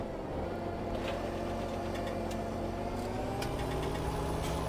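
Case Quadtrac tractor engine in Farming Simulator 17, a steady deep diesel rumble that slowly rises in pitch as it revs, loud and continuous, with occasional faint clicks.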